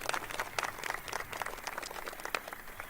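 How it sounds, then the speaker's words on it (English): Applause for an event management team at a press conference kicking off the Bayou Classic between Southern and Grambling, a dense, steady patter of many hands clapping throughout at moderate volume. "Round of applause for Dottie and her team."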